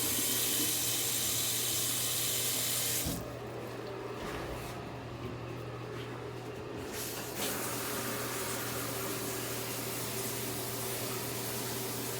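Hot water running from a household tap into a sink, a steady hissing flow over a low constant hum that briefly turns quieter and duller midway, then resumes its full spray with no talking.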